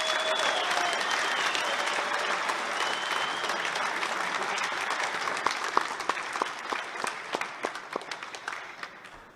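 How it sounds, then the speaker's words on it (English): At a formal dinner, an audience applauds a craftsman honored for making a lamp. The dense, roomy applause lasts several seconds, then thins into scattered individual claps as it dies down. "Let's give him a warm round of applause."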